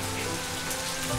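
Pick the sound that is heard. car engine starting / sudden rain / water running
sudden rain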